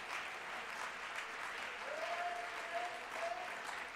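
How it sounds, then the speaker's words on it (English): A church congregation claps steadily, a dense wash of applause throughout, with a faint voice rising briefly in the middle. "Why don't we clap our hands and thank God for elders?"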